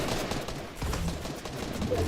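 Gunfire in a Fortnite tournament match cracks out in quick, rapid bursts over a busy background, with a commentator's voice faintly underneath.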